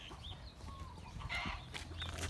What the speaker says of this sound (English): Got a little chicken running.